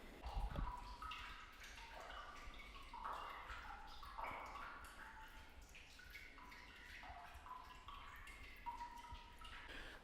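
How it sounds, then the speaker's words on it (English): Faint, sparse water drips in an underground space, irregular small plinks spread through a quiet, slightly hollow background with no voices. "just some dripping water"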